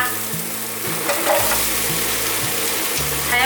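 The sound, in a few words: stir-frying bitter melon, carrot and white mushrooms in wok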